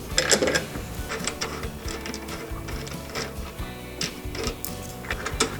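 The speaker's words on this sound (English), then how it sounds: "So I'm taking off the nut." A nut being unscrewed by hand from a Cobra RM46SPC lawn mower handle bracket, with soft repeated ticking and light metallic scraping close by, steady and fairly quiet.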